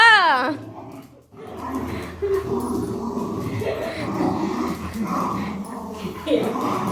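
A dog gives a high, sliding whimper and short yips up close at the start, followed by a busy stretch of mixed sounds that may include speech or vocalisation.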